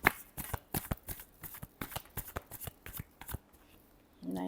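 Tarot cards being shuffled by hand, a quick series of crisp riffling flicks in an uneven rhythm, close up, ending as a voice starts speaking.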